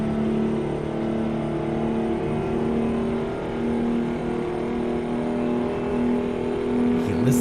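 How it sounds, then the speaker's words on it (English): A steady truck engine drone in American Truck Simulator hums throughout, cruising at constant speed, with a low, even tone and no talking. "You can listen to that engine purr."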